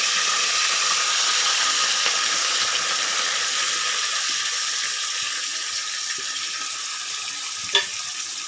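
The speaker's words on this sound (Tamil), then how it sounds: "இப்போது நம்ம நல்லா ஃபைனாக அரைச்சி வச்ச மசாலா பேஸ்ட் போட போகிறோம்." Ground masala paste frying in hot oil with curry leaves in a pan for a chicken eral gravy gives a steady, close sizzling hiss that runs without pause, with one brief louder crackle near the end and no talk.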